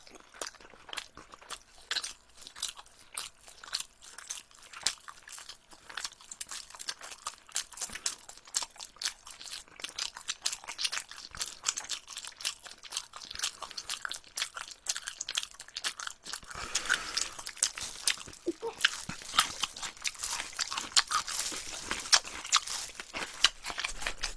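Someone chews a cheese ball taken in one bite alongside seasoned fried chicken, with close, crisp crunching and wet chewing that grows busier and louder toward the end.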